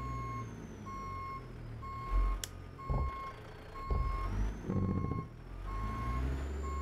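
A truck in an American truck driving game sends out a steady train of evenly spaced reversing beeps over a low idling diesel rumble, with short bursts of engine and air noise between the beeps and no talking.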